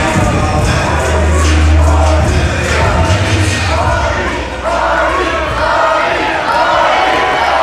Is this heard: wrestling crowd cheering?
yes